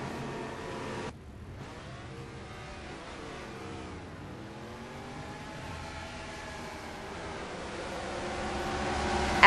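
Race cars in ARCA sim racing at the Milwaukee Mile: engines whine continuously with rising and falling pitch as cars accelerate, pass and pull away, layered engine tones from several cars, no talking.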